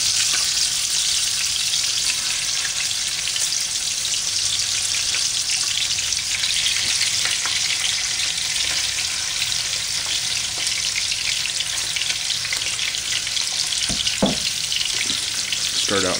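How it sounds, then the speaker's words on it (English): Chicken breast pieces searing in a little oil, a loud, dense, continuous sizzle close by that holds steady throughout, with a few faint scrapes near the end. "start out with some of these breast pieces and get them in there, sear them up."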